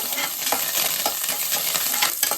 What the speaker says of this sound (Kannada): ಈಗ ಇದಕ್ಕೆ ಈರುಳ್ಳಿ ಹಾಕ್ಕೊಂಡು ಕರ್ಬೇವಿನ ಸೊಪ್ಪನ್ನು ಹಾಕಿ ಸ್ವಲ್ಪ ಫ್ರೈ ಮಾಡಬೇಕು